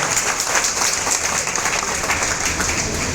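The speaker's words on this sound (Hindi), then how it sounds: "आपसे गुजारिश करता हूं कि तालियों के जरिए, अपने शब्दों के जरिए अजीत दादा का शुक्रिया।" Audience applause at a political party induction event, steady loud clapping from a crowd throughout.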